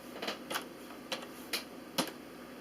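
Fingers tap a computer keyboard in a quiet room, entering a DOS command at a prompt; a handful of soft, separate keystrokes come in an irregular pattern over a faint background hum.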